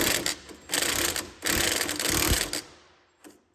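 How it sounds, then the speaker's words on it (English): Cheap ball joint puller at work on the suspension of a 1972 Toyota Corolla, giving a series of close, bursty mechanical clatters and ratcheting rasps in several separated runs, then a brief final tap. "I went and picked up this ball joint puller and hopefully it's gonna work."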